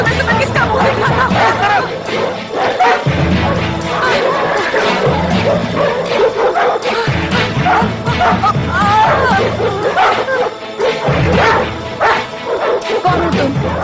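Several dogs bark and yip loudly and repeatedly in a dense, continuous burst, with some whimpering, while people shout and talk over the commotion.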